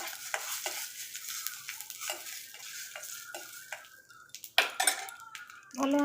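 Mustard seeds and cumin splutter in hot oil alongside whole dried red chillies, tempering for Odia moong dal dalma. A close, steady sizzling hiss is dotted with rapid crackling pops, swelling into louder bursts toward the end, with no talk.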